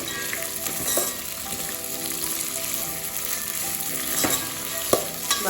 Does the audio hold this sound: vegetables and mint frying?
yes